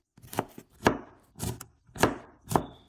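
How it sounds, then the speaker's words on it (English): A knife finely chopping ginger on a cutting board: five crisp, evenly spaced chops, close and fairly loud, with no voices. "Prepare a piece of ginger by cutting it into thin slices, then thin strips, and then finely chopping it."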